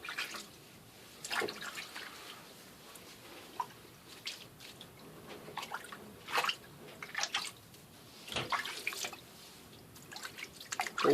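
Water drips irregularly and softly during an apple cider vinegar rinse of dreadlocks, with scattered close drops and short trickles over a quiet background and no talking.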